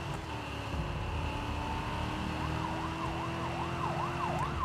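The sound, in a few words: police car siren in a video game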